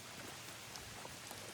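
Heavy rain pouring steadily in a park, a dense even hiss of drops hitting surfaces with no voices.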